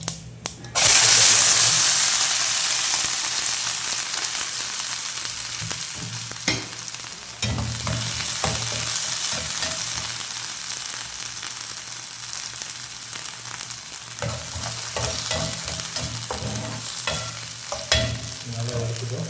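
Garlic and onion fry in a hot pan for a Tamil potato dal curry, a loud steady sizzle that starts abruptly and carries on throughout, broken by occasional scraping stirs and clinks.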